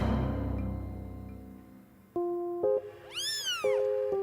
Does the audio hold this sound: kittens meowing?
yes